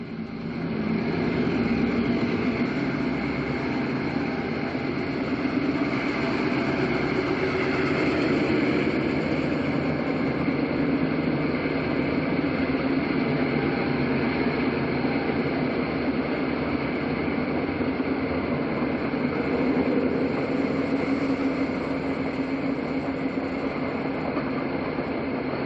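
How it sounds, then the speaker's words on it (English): The California Zephyr, a diesel passenger train with five units, departs Helper, Utah, a continuous heavy engine drone and rolling rumble held at a steady, fairly loud level throughout. "And the train heads out of Helper with 5 units."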